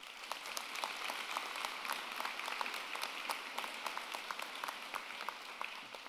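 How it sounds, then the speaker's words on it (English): A crowd at a college convocation ceremony, NSCC Cumberland Campus 2018, breaks into sustained applause, a dense, steady wash of many hands clapping evenly throughout with no voices over it. "So I think that deserves a huge round of applause."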